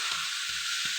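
Vegetables frying in a pan, a steady bright sizzle underneath three soft scraping thumps as the food is stirred at an even pace, close and fairly loud, with no talking.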